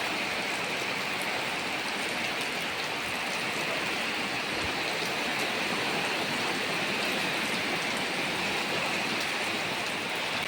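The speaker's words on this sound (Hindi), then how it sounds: "हर रोज बारिश आने के वजह से देखो सब खराब।" Steady rain pours down, a dense even hiss of drops falling on surfaces, continuous throughout with no voices.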